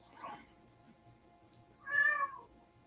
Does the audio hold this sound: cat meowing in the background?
yes